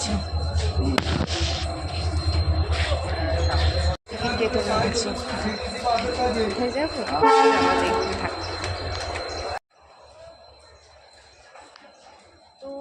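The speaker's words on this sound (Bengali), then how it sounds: "প্ল্যাটফর্মে চলে এসেছি যে কোনো ট্রেন যাবে" Train horn sounding at a railway platform, a loud sustained blare with tonal bands riding over busy station noise and people talking nearby, ending abruptly into quieter ambience.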